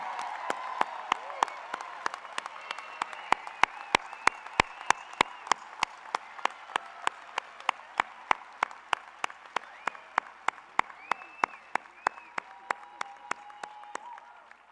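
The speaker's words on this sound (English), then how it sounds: "Let's give one more round of applause for all of our graduates." Applause rises from the audience at a fall graduate and professional hooding ceremony, with quieter distant crowd clapping throughout and a sharp, regular ticking pulse cutting through it.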